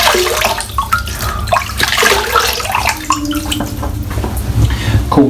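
Cold water splashes during a wet shave as hands bring it up to wet the face. Irregular splashes and trickles come close by at a fairly loud level and vary from moment to moment.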